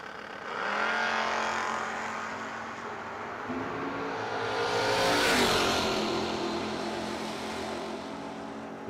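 A Mustang drag racing car at a No-Box 660 shootout launches down the drag strip, a loud revving roar that builds and sweeps past, then fades as it runs away into the distance.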